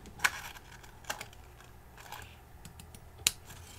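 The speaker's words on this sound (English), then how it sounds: "And now I'm just going to trim it to size." Scissors trim a craft piece to size in a few quick, sharp snips spaced apart, faint and close, over a quiet room with light handling noise.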